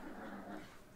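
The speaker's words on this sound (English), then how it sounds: "No, it's my dog. No, it's growling." A dog growls in one short, low, rough continuous rumble, fairly faint and close, with no talk over it.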